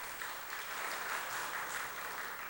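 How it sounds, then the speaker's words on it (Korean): A church congregation claps after a hymn at a Sunday service, a brief, even wash of applause at moderate volume with no speech. "박수로 격려 한 번 더 하면 좋을 것 같습니다"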